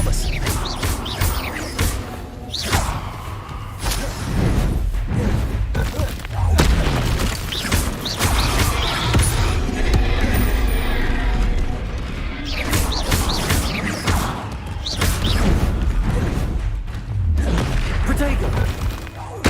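Spell-casting combat in Hogwarts Legacy with the Expelliarmus disarming charm: dense, loud booms, crashes and magical impacts roll on almost without pause, layered over a busy game soundscape.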